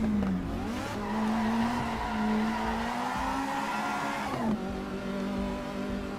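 Race car tyres squeal steadily in Assetto Corsa EVO, a high sustained whine that shifts in pitch over a running engine and lasts several seconds, with no talk.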